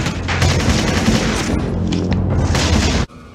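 Dense, loud sci-fi television gunfire with booming, crackling volleys fills the scene continuously, then cuts off abruptly near the end.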